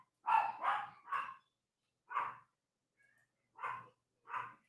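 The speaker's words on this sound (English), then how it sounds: "Dogs just tripping for the sake of tripping." A dog barks in short, sharp bursts with no talking. Three quick barks come close together, then a pause, then three more spaced out, all moderately near.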